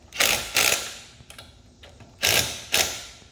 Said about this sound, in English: That little gun is not going to over torque these wheels.